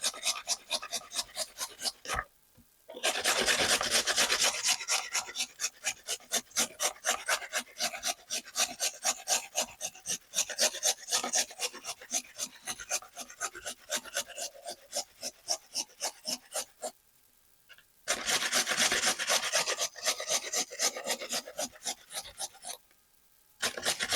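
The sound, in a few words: grating food on a grater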